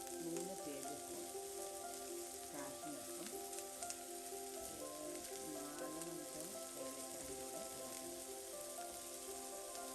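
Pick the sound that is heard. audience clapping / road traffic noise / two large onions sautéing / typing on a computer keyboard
two large onions sautéing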